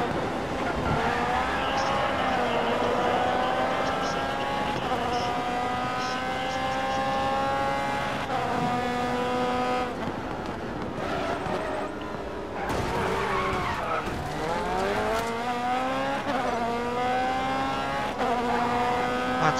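Race cars in the Grid Autosport video game roar and rise through the gears after a race start, with engines whining in pitch sweeps and brief tire squeals, all continuous and close.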